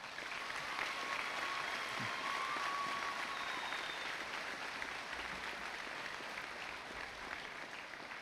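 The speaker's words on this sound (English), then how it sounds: "Please give these scholarship recipients and businesses a round of applause." A graduation ceremony crowd applauds scholarship recipients and local businesses, a long, even rush of clapping from a large audience that holds steady to the end.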